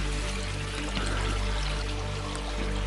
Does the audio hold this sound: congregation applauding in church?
no